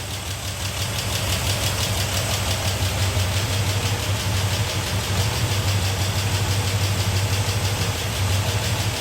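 A Chrysler Valiant AP6 engine running steadily at idle after a rebuild, giving a loud, close, even rumble with a rhythmic low pulse throughout and no talking.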